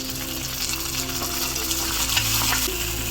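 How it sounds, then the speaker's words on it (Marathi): Onion and tomato frying in a pan for khichdi, a steady close sizzle with occasional stirring scrapes and a faint background hum. "हे टोमॅटो थोडंसं भाजून घेऊया"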